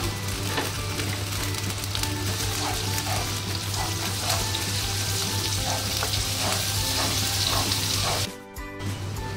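Ginger and garlic paste fries in hot oil for chicken dopiaza, giving a steady loud sizzle that runs throughout, with a brief clatter near the end.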